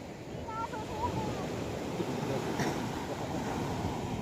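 Waves crash and wash steadily along a shore, a continuous loud roar of surf with wind buffeting the microphone and a faint voice early on.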